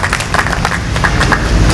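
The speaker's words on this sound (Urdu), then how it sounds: "صاحب کے لیے تالیاں" An audience claps in applause for a speaker at a talk, a burst of close, dense hand claps with irregular sharp hits throughout.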